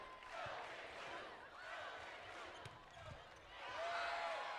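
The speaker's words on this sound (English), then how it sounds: "Just listen to that crowd." Spectators fill a gym with continuous cheering at a Kentucky vs. Cal Poly NCAA volleyball regional semifinal, with a few sharp ball thuds and a whistle-like tone rising near the end over the steady roar.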